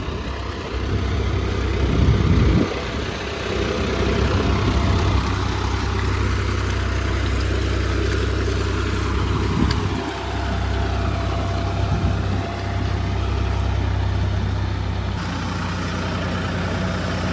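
A heavy 4x4 tractor engine idles with a deep, steady rumble close by, with faint revving changes and no talking.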